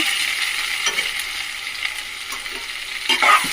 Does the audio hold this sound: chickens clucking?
no